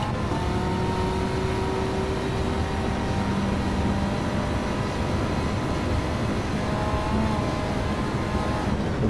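A front-wheel-drive race car in the video game Gran Turismo 7 drives on throttle through a double-apex corner, giving a steady, continuous engine drone with a thin tonal whine and no talk over it.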